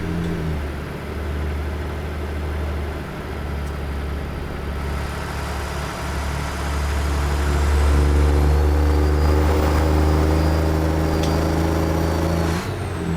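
A truck engine in American Truck Simulator runs steadily at a low drone, with a strong rumble throughout that swells louder and rises in pitch partway through, as if building revs under load.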